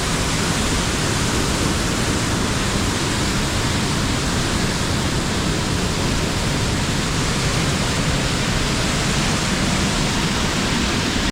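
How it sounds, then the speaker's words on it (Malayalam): Rushing water near the top of Arippara waterfall, a steady, dense roar that fills the whole clip at constant loudness with no breaks and no voices. "നമ്മളെ ഈ വെള്ളച്ചാട്ടത്തിൻ്റെ നേരെ മുകൾ ഭാഗത്താണ് ഇപ്പോൾ ഏറ്റവും കൂടുതൽ ആൾക്കാർ കുളിക്കുന്നത്."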